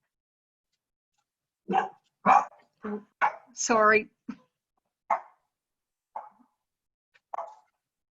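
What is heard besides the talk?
dogs barking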